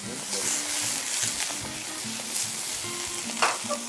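Mushrooms, garlic and onion fry together in a pan with a continuous bright sizzle, stirred now and then with scraping strokes, with faint voices underneath.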